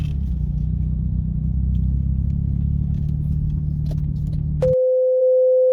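A 2008 Honda Civic FD sedan with manual transmission cruises toward the toll road at night, its steady low engine and road drone filling the cabin before cutting off abruptly into a single sustained electronic tone.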